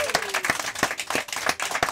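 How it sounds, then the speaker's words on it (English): Applause for a couple at a Christmas charity engagement event, with sharp individual claps rising and falling over about two seconds, fairly close and moderate in volume, with some speech faintly mixed in. "A big round of applause to Dion and Lauren."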